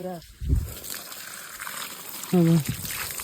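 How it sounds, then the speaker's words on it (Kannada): Water trickles and splashes softly as it is poured over hands, with brief bursts of a voice at the start and again later. "ಸ್ವಲ್ಪ ಕೈಗೆ ನೀರು ಹಾಕಮ್ಮ"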